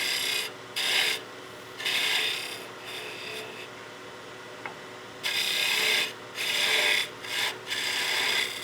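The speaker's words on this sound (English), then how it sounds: "let's go and get our finished tenon size out using that diamond parting tool" A diamond parting tool cuts a tenon into wood spinning on a lathe, giving several bursts of close scraping and rasping separated by quieter pauses.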